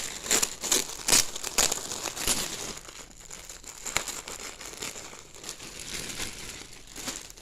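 A large windowed BİM storage bag with a snap-fastened lid is pulled open, producing loud, close crinkling and rustling of plastic in bursts, easing into softer handling noise.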